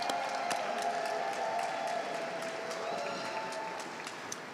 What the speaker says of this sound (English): Let's clap this morning.